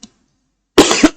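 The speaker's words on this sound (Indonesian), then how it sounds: "batuk seret" A dry cough comes in a short burst of two or three harsh, close hacks after a brief pause, loud and with no talk.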